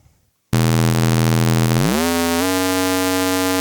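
Joranalogue modular synthesizer droning an odd-harmonic tone, loud and steady, with its pitch stepping upward partway through and holding to the end.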